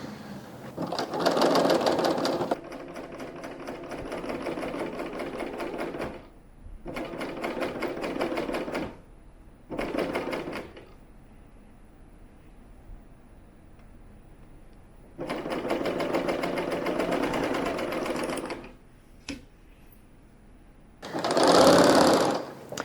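A sewing machine stitches jersey fabric in several bursts of rapid, steady mechanical chatter, separated by short pauses, with the final burst louder and closer.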